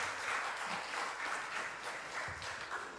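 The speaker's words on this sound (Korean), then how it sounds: "박수 한번 뜨겁게 부탁드리겠습니다" Church congregation at a Sunday afternoon service applauding warmly, a steady dense wash of many hands clapping throughout, moderately distant and reverberant in the sanctuary.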